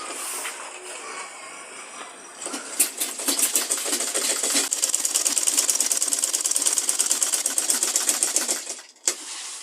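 A sewing machine stitches down the side seam of a leather tote bag, starting with quiet handling and then a long, steady run of rapid needle strokes before an abrupt stop near the end.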